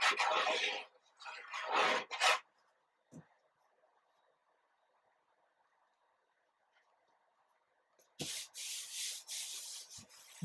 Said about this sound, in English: Burnish it with my hands to make sure that I get it done.